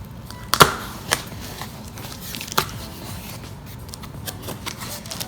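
Plastic cellophane bags being opened by hand, with a few sharp crinkles and crackles, the loudest near the start, then softer rustling over a low room hum.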